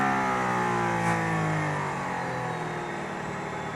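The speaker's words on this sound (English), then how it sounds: "I'm in a car with a Formula One engine, driving over a Formula One racetrack behind the Formula One safety car." Mercedes-AMG ONE with a Formula One engine driving on the Barcelona racetrack, heard from the cabin as a steady mid-pitched engine drone with smooth rising and falling harmonics, moderately loud, no talk.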